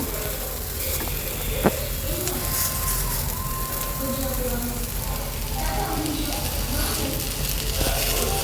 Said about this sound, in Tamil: ஒவ்வொரு பீசஸாக எடுத்து தவாவில் வச்சு ஸோ வறுத்து எடுத்துக்கலாம்